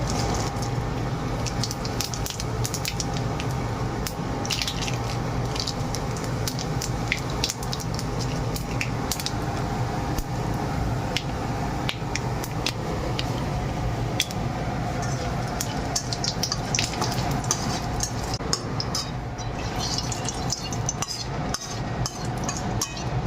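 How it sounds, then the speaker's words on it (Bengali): Dry chilli, torn bay leaf and cumin seeds crackling in hot oil in a pan, a steady dense hiss with scattered clinks of a utensil, continuous and fairly close throughout. "শুকনো লঙ্কা তেজপাতা জিরে দিয়ে দিলাম"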